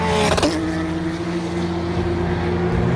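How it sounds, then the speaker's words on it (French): A steady car engine drone hums continuously at close range, with a brief rising whine near the start before settling into a constant tone. "le bruit d'un moteur revenait."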